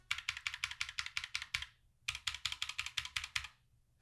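Rapid clattering keystrokes on a mechanical keyboard with filmed switches, two bursts of quick, even typing separated by a short pause, close and clear with no talking.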